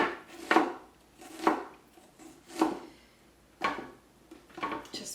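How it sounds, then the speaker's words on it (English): Thin slices being cut from half a red onion with a knife on a cutting board, five crisp chops spaced about a second apart, close and clear with no talking. "I'm going to use half a red onion and just cut thin slices."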